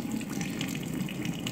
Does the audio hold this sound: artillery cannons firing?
no